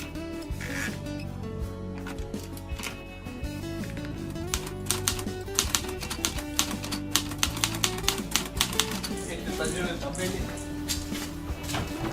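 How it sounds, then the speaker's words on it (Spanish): Typing on Uruguay's first typewriter, a run of sharp mechanical key strikes that grows denser toward the middle of the passage, heard under steady background talk and music. "vimos la primer máquina de escribir uruguaya"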